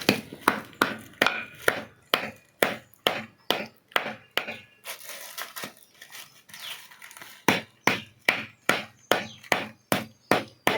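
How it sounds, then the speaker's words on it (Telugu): Jaggery pounded inside a plastic cover, sharp repeated thuds in a steady rhythm, about two per second, loud and close, with a short pause of softer rustling in the middle. "బెల్లం చిరగొడుతున్నాను"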